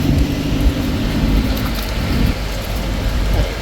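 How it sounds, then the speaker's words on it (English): Heavy rain pours steadily near a dam in Kanchanaburi during the rainy season, a loud, dense hiss with a low rumble underneath and no voices. "It's kind of a bit rainy for today"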